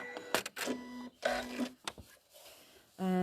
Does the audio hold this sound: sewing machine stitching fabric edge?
yes